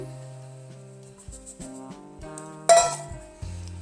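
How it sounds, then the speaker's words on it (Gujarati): A spoon clinks and scrapes against a bowl while mixing semolina and sugar batter for rava cake, a few bright metallic taps and rings close by, with no voices. "સારી રીતે મિક્સ કરી લેવાનું છે"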